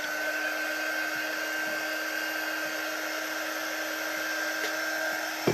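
Hair dryer drying pumpkin shelf sitter cutouts, a loud steady blowing whine held close and constant throughout, with a faint clunk at the end.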